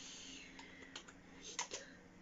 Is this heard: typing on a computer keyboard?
yes